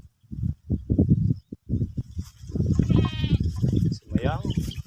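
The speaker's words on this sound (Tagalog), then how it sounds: "mga alaga nating kambing." Goats grazing in a harvested watermelon field in Oriental Mindoro bleat in quavering cries, close and fairly loud, mixed in with a person talking nearby.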